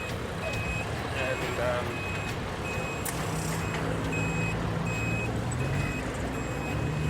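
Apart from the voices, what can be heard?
Australian road train truck manoeuvring with reversing beeps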